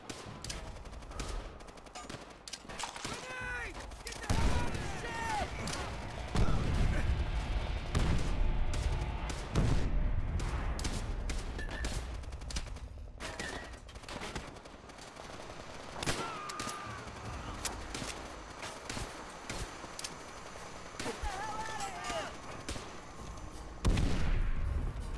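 Gunfire in the World War II shooter Call of Duty: World at War, with repeated bursts of automatic fire and heavy booming shots echoing across a battlefield, loud and dense throughout with a brief lull midway.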